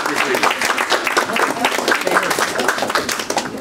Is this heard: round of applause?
yes